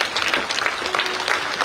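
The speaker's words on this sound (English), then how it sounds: "Huge round of applause with a standing ovation for such a speech from the heart." Audience applause during a standing ovation after a health minister's speech at a university event, a full, steady burst of clapping from a large crowd, loud and close.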